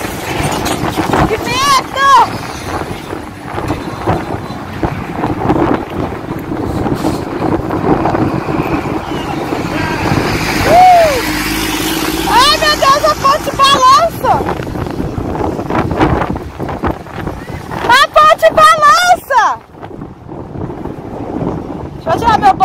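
Strong wind gusts roar and buffet a phone microphone at the São Francisco River canyon on the Alagoas–Bahia border, loud and constant, with voices faintly underneath.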